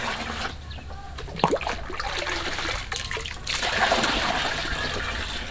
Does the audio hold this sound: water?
yes